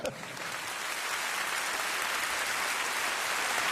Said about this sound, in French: Applaudissez Isabelle Giordano